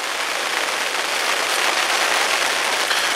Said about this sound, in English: You can probably hear the rain is here now